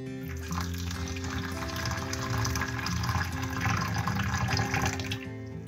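Hot water is poured into a container to dissolve jelly for shortcrust tartlets with custard cream, a steady, close gushing pour that runs unbroken for about six seconds with a faint tonal background.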